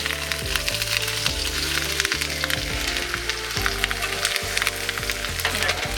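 Stuffed food sizzles and crackles steadily in a hot pan just after being flipped, a dense, continuous frying hiss with occasional pops and faint scraping, close and fairly loud with no voices.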